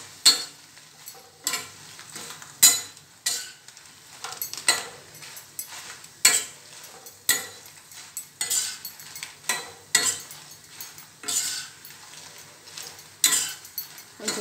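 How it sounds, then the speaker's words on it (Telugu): Urad dal fries in a pan as a spatula scrapes and stirs, repeated irregular scraping strokes with light clinks over a quiet steady sizzle, no talking. "ఇప్పుడు సగం వేగినాయి కదా ఈ వేస్తున్న మినపప్పు"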